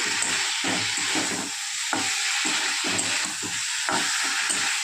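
Vegetables sautéing with spices in a pan, giving a loud continuous hissing sizzle with regular stirring scrapes across it, close and steady throughout.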